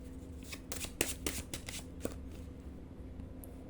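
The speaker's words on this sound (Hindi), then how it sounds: "कुछ कार्ड्स और पुल कर लेते हैं।" Tarot cards are shuffled and pulled by hand, producing a close, quiet series of crisp riffling flicks and soft slaps in an uneven rhythm.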